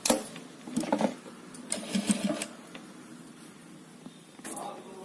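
A sewing machine stitches the edges of a fabric waist belt, running in short whirring bursts with a clattering needle, then pausing and whirring briefly again, close by and moderately loud.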